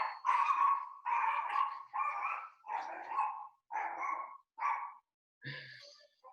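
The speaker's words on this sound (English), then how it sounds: "my dog quits freaking out at the door" A dog barks at a house door indoors in six or seven sharp, evenly spaced barks, each roughly half a second long and moderately loud, ending with a shorter, higher yelp.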